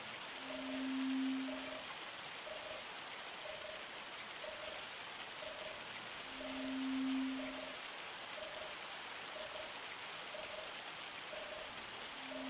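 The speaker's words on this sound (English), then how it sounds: "Crazy how much hail's coming down." Hailstorm in a video game: a steady, even hiss of hail pours down without a break, with a faint chirping tone repeating at regular intervals in the background and no voices.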